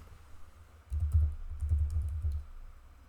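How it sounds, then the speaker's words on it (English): Quick run of keystrokes on a computer keyboard while entering a product name into CRM software, a soft burst of clicking lasting about a second and a half, close and fairly quiet with no talking. "start typing the name of the product in this box that pops up"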